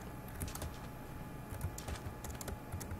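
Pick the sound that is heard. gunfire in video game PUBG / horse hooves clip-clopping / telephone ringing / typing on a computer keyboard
typing on a computer keyboard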